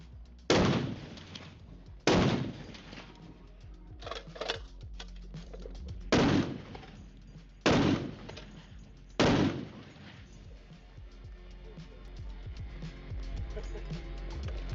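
An AK-50 rifle fires about six loud, sharp shots, some spaced and some in quick pairs, with a faint low rumble between them.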